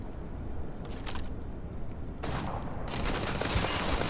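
Enemies firing guns in the space game Starfield, a steady stream of fairly loud gunshot bursts with sharp cracks, heavier after midway, with no talking.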